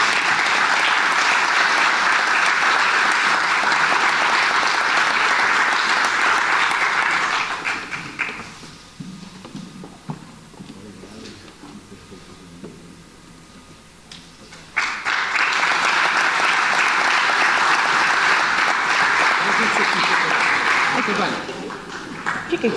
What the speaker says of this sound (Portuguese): para quem peço uma salva de palmas